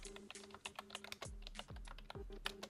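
A prompt is typed on a computer keyboard in quick, uneven bursts of close key clicks, with a few heavier thumps like the space bar, all fairly soft and with no talking.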